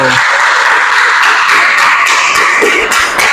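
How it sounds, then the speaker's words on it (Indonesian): Classroom applause for a student group during an Islamic religious education (Quran Hadith) teaching practice session, a steady broadband clatter of clapping filling the whole stretch at close range. "berikan tepuk tangan untuk kelompok 1"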